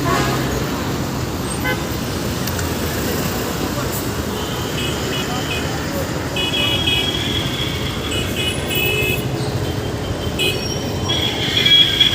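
A train stands at a railway station amid a busy platform, with a steady rumble of rail cars, a horn toot and wheel squeal rising near the end, while people talk nearby throughout.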